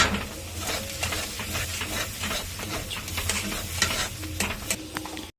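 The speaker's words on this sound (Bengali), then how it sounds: "এখানে আমি লো ফ্লেমে মশলাটাকে পুরো কষিয়ে নিয়েছি ভালো করে" Spice masala with a pinch of sugar fries and is stirred in a pan over a low flame, a continuous close sizzle broken by irregular scraping strokes of the spatula.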